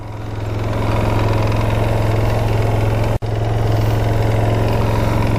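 A sport quad's engine idles steadily with a low, throbbing drone close by, briefly cutting out for an instant as it is shifted toward reverse before resuming its even idle.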